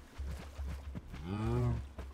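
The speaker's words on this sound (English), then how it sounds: "this is the only female cow on this island, probably" A cow in the Terrafirmacraft Minecraft mod gives a single drawn-out moo, close and clear. It rises and then trails off, with a few soft thumps before it.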